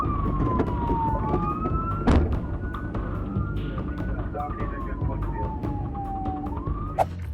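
A police car siren wails continuously during a dashcam-filmed pursuit, its pitch sweeping slowly up and down in a long yelp, fairly loud and close, with a couple of sharp knocks and road rumble beneath it.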